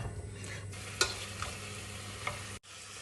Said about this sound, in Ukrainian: Так, ребра смажаться.